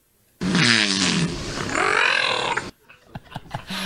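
A whale vocalizes for a researcher with a long, loud, groaning roar full of wavering harmonics, lasting about two seconds before stopping abruptly, followed by quieter scattered sounds.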